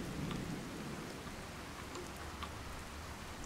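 Heavy rain in the video game Fallout 4 pours steadily with a dense hiss, scattered droplets ticking and a low rumble underneath, like a storm.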